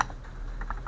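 Short burst of soft computer keyboard typing, a few quick light key clicks entering text in video editing software, close and quiet with no voice.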